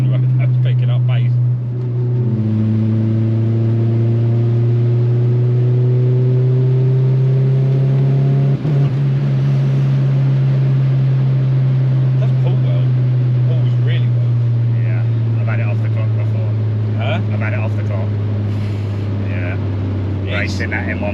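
A Rover 220 Turbo coupe engine drones steadily and loudly as the car accelerates, its note climbing slowly and holding over about twenty seconds of continuous road driving.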